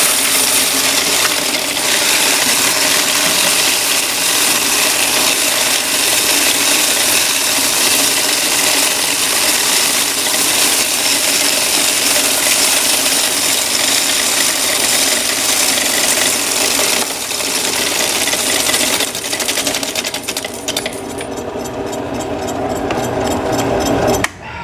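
A continuous, loud metallic rush of coins poured out of laundromat machines for counting, a dense jingling cascade that runs unbroken for over twenty seconds before abruptly thinning out at the end.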